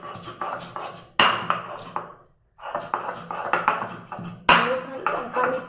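Dried chilli and salt being ground into a paste on a shil stone, a steady rhythmic scraping and knocking with a brief pause midway, close and fairly loud.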